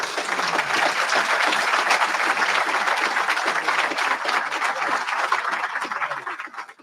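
Sustained applause from an audience at a graduation ceremony, a dense even wash of many hands clapping for several seconds before tapering off at the end.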